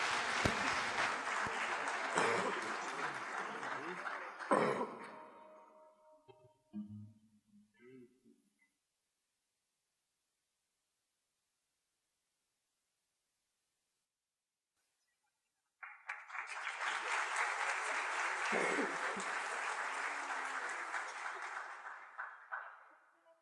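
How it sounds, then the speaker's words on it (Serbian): Audience applause at an ilahije and kaside festival, a broad dense wash of clapping that swells in after a stretch of silence and holds steady, preceded by a brief spoken introduction. "Evo dajte im naravno aplauz i dajte im podršku."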